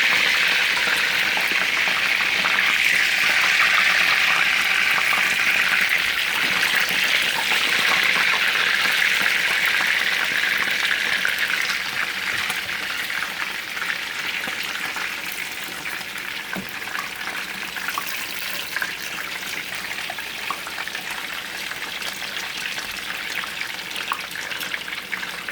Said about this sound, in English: just let them fry